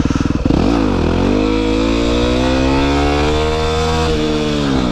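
A Yamaha WR250R dirt bike revs hard as the rider attempts a slow wheelie, engine sputtering briefly then climbing into a loud, steady high-rpm roar close up, with no talking.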